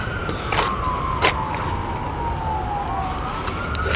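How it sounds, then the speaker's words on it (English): A siren wails and sweeps in pitch as an emergency vehicle passes, rising and falling over steady traffic rumble, moderately loud. "Got the old ambulance running by as usual."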